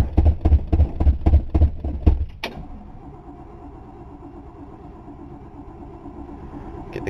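A 1960 Dodge Dart cranks with about eight rapid, rhythmic starter pulses, catches with a sharp burst, then settles into a steady low idle, close up and with no voices.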